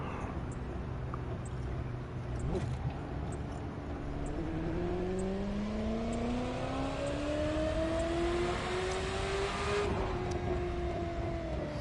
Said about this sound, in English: And the engine sounds as well. Sounds like they've had a little bit of a tweak.